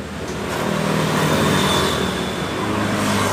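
A Honda Scoopy scooter engine held at low throttle, sputtering and stumbling rather than revving cleanly, with a steady close-up engine drone throughout and no voices.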